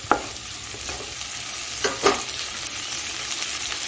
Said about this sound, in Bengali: আদা রসটাকে একটু সবজির সঙ্গে মিশিয়ে নিচ্ছি।